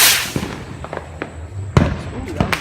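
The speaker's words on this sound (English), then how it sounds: "Texas Bottle Rocket. Going up in 5" Texas Bottle Rocket firework fired outdoors: a hissing launch followed by sharp cracking bangs, a loud pop near the middle and a couple more reports after, with faint background voices.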